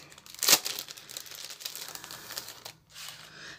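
A paper envelope being torn open by hand, with a sharp crinkling rip near the start followed by softer rustling of paper, close and fairly quiet.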